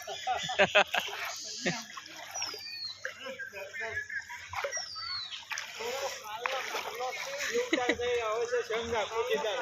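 Splashing and sloshing steps wading through floodwater after heavy rain in Patan, Gujarat, irregular and close, with people talking over much of it.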